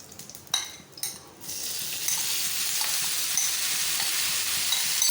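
Macaroni sautéing with tikka masala, salt and spices in a hot pan gives a steady, broad sizzle after a few clattering utensil knocks at the start, continuous and fairly close.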